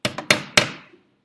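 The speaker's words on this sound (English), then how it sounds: "All right, that's the center punch." A hammer strikes a center punch into metal four times in quick succession, sharp close taps with the last blow ringing out briefly before silence.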